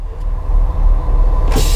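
On a 2016 Dynamax DX3 37BH Class C motorhome, a low idling engine rumble gives way to a sudden sharp burst of air hiss as the air parking brake is released.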